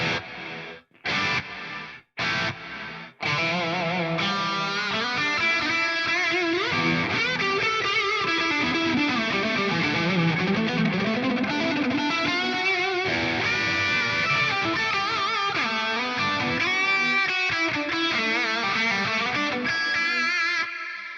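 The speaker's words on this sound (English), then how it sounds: "So I absolutely love the Ultra Tap algorithm as that faux non-linear reverb." Distorted electric guitar run through an Eventide H9 Ultra Tap algorithm used as a faux non-linear reverb, a few choppy stabs at first, then sustained, swelling chords with a dense, smeared tail, loud and continuous with no talking.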